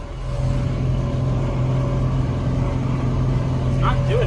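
A farm tractor engine runs wide open at full throttle while pulling a deep tillage implement across a field, a loud steady droning roar that holds constant throughout with no break.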